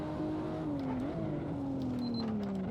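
A Toyota Supra in the racing game Assetto Corsa at Buttonwillow: engine note climbs steadily under acceleration, briefly drops and rises again around a downshift, then keeps droning loudly with faint tire noise, with no talk.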